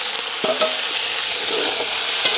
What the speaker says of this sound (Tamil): எண்ணெய் கொதிச்சிட்டு கருவேப்பிலை நம்ம போடுவோம்.